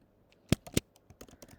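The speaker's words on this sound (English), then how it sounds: "So let me type. I'm gonna type" Keys on a computer keyboard are pressed in a short, uneven burst of close, sharp clicks, two louder strokes standing out before lighter taps follow.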